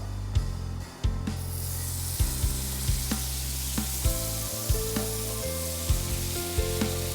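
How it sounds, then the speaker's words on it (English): Butter heating and sizzling in a pan for pav bhaji, a steady close hiss punctuated by a few sharp clicks and taps of a utensil, with no voices. "First, I'm going to heat up some butter."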